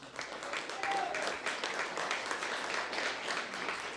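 An audience at an anniversary gala applauds as committee members are introduced, a steady, moderately distant patter of clapping that continues evenly beneath some talking.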